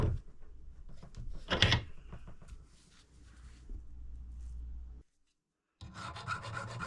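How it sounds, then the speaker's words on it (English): A metal file rasps across the end of a bronze rod, rounding it off before threading; several scraping strokes sound close up, with a louder burst early on, a brief silence, then more filing. "Just using the file to round the end off so I can just start the die off easier"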